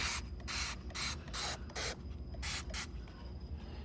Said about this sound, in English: And yes, this is Dawn Power Spray.